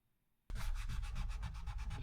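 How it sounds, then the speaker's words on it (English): A rag rubbed over the body of a semi-hollow guitar to wipe off glue marks makes a steady, close, continuous scrubbing sound with rhythmic back-and-forth strokes, starting abruptly after a short silence. "Just trying to rub around some of those more visible areas where we can see some glue."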